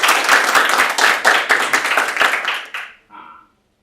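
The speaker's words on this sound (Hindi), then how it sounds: "तो पवित्र जी के लिए तालियां तो बजाओ भाई।" A group at an aerobic yoga club session claps, loud and close, in a brisk uneven burst of hand claps that stops abruptly, followed by a short murmur.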